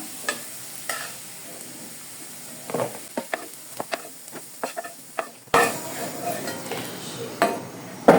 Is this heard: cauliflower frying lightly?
yes